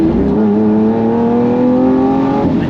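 A Lamborghini Aventador SV engine revs loud and close, its pitch climbing steadily through one sustained acceleration before easing off at the end.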